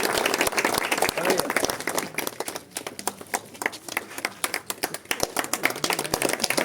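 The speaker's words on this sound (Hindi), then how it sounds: "एक बार जोरदार ताली से स्वागत कीजिएगा।" A crowd at a Yuva Ekta Dal political meeting in Mahuda bursts into loud, dense applause to welcome guests, the steady clatter of many hands continuing under talking and loudspeaker voices.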